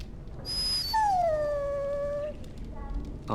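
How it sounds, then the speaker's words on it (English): Dog in the Dragon Age: Origins game letting out a single drawn-out whining howl with a falling pitch, close and clear, followed by a softer whimper. "Bloody dog."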